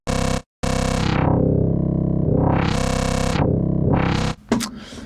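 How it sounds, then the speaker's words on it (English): A Serum wavetable called Odd Pass played as a synth in Vital, loud sustained buzzy tones in a few long notes whose brightness sweeps up and down, with a short gap near the start and a brief scrape at the end. "open a wavetable from Serum actually, which is called Odd Pass, and it sounds like this."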